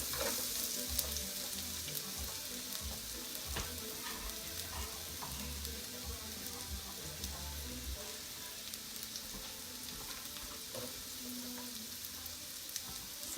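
Garlic and onions for a seafood paella sizzle steadily in hot oil, with a dense continuous crackle, occasional stirring scrapes and faint background voices.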